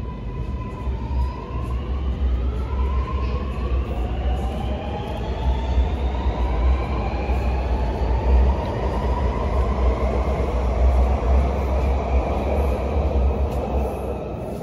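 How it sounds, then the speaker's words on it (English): A Sydney Metro train pulls away from platform 1 at Chatswood station with a loud rumble, its motors whining in rising tones as it gathers speed, wheels rolling steadily on the rails. "here we have our Sydenham Metro train departing, platform 1"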